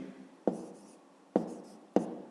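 Pen or pencil strokes writing numbers by hand on paper during a fifth-grade maths exercise on area, three short scratchy bursts spaced about a second apart, quiet and close with no talk.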